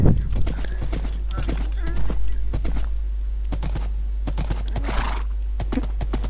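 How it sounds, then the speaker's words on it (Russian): Horse hooves clip-clopping while riding in Minecraft, repeated sharp hoof clicks with a whinny, heard under someone talking, close and clear. "А пока я катаюсь на коне."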